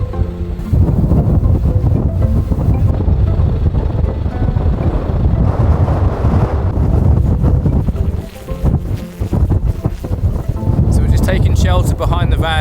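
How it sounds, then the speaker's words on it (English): Strong wind of an Arctic blizzard on the ice roads toward Nordkapp roars loud and steady against the microphone, with gusty surges throughout and a voice briefly audible. "It's getting windy."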